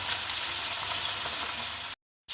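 Beef shin sears in olive oil over high heat with a loud, dense, steady sizzle that cuts out abruptly into silence just before the end.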